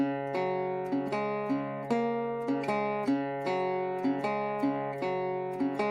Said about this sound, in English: I wanted to add another resonator panned to the left.